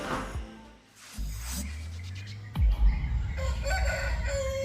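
A rooster crows in a village in Demak regency, Central Java, a fairly close call heard amid outdoor rumble and background sounds, with other fowl clucking softly around it.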